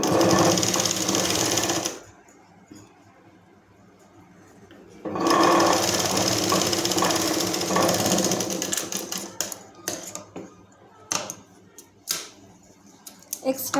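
A sewing machine stitches fabric for a balloon-style (fuga bahi) book in fast whirring bursts, one short run, a pause, then a longer run breaking into stop-start stitching, while a voice talks at times.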